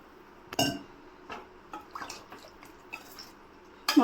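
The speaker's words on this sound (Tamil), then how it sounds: "மசாலா போட்ட உடனே கொஞ்சம் லைட்டாக தண்ணி ஊற்றிக்கலாங்க." Water splashed lightly into frying ground masala in a pan, a sharp splash and sizzle followed by a few soft drips and clinks, then another burst at the end, close and otherwise quiet.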